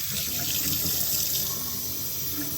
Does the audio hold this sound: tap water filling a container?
yes